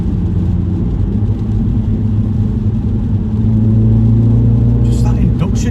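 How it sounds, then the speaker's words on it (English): A Mini Cooper JCW engine rumbles steadily, then shifts pitch as it downshifts, with induction noise over the top and a couple of short sharp sounds near the end, under a low, continuous road drone. "Let's just see what the downshift sounds like."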